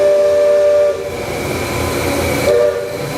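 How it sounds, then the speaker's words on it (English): Steam whistle of the Liberty Bell riverboat at Magic Kingdom, two clear tonal blasts, a longer one lasting about a second then a shorter one near the end, sounding fairly close over a busy park background. "there was the steam whistle that I love coming off the Liberty Bell"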